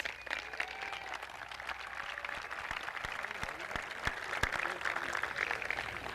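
Faint, distant crowd applause rises at an outdoor parade accompanying the space shuttle Atlantis, with a band and honor guard, scattered claps mixing with open-air murmur.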